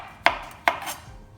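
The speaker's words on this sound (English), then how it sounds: "So you wanna chop this like this." A knife chops mushrooms for stuffing on a cutting board, two sharp, close knocks about half a second apart, with a faint third tap after them.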